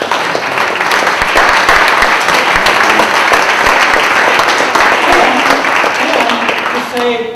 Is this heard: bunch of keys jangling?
no